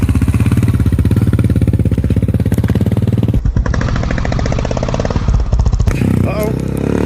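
A 2023 Kawasaki KLR 650 motorcycle engine runs loud and close with a rapid, even thumping beat that holds steady, then shifts in tone partway through as the revs change.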